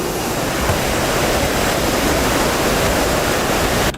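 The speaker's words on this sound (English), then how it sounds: "Okay, yeah, the air brake works." A truck air brake in a video game lets out a loud, steady, broadband hiss that holds for about four seconds and then cuts off abruptly.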